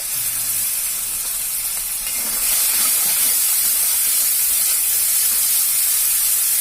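Spice paste hitting a hot oiled pan for a Bengali rohu fish head curry with taro, giving a loud, steady sizzle that swells further a couple of seconds in and holds, with no voices.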